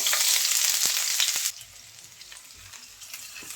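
Chopped onion drops into hot oil in a pan where dried red chilies were just fried, giving a loud, dense sizzle for about a second and a half before it settles into a quieter, steady crackle with no voices.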